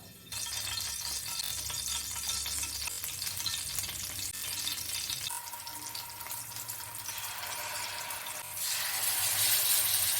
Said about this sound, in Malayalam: നമുക്ക് ഇത് വറുക്കാം